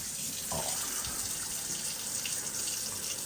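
Water running steadily from a mains supply pipe, a continuous hissing rush at close range with no pauses, alone with no voices.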